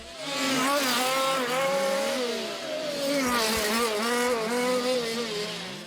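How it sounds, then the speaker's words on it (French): Scale replica race cars pulling out of the pits onto a track, high-pitched engines whining and revving in overlapping waves as several cars pass close by, loud and continuous, with no talk. "Les voitures s'apprêtent à sortir des stands. Attachez vos ceintures et rendez-vous au premier virage."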